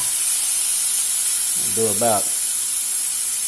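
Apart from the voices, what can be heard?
minced garlic sizzling in pan with Cajun steak bites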